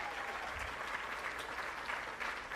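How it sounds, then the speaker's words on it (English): An audience at a live march performance applauds steadily, a dense wash of clapping that stays loud and even throughout with no voices over it. "a round of applause."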